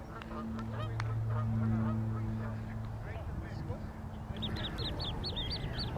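Egyptian geese honking beside the Round Pond in Kensington Gardens, London: a cluster of rapid, high, rasping calls near the end over a steady low outdoor hum, fairly distant and faint.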